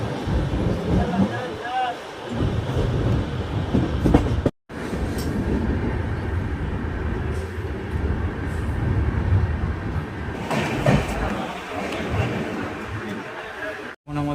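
A passenger train from Howrah to New Delhi runs at speed with a loud, continuous rumble and rattle heard from inside, cut by two brief drops, and voices mix into the din.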